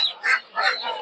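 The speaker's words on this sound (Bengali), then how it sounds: "দেশি ক্যাম্বেল হাঁস।" Khaki Campbell laying ducks at a busy poultry market, a few short nasal quacks in quick succession, fairly close and clear.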